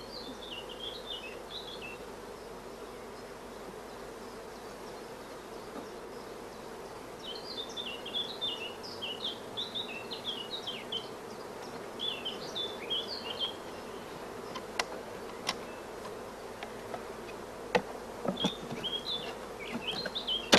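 Honey bees hum steadily around frames lifted from a hive brood chamber, a low continuous drone with faint high chirps over it and a few sharp clicks near the end.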